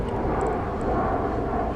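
An American airliner departs DFW Airport at night, its engine roar a steady, broad rumble heard from a distance with faint high chirps above.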